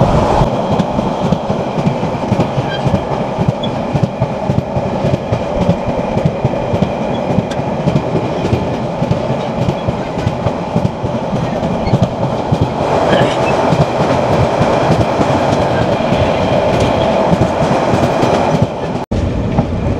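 Saikat Express passenger train running between Chattogram and Cox's Bazar, heard from the open doorway: a loud, steady rumble with continuous clickety-clack of wheels over rail joints and no voices.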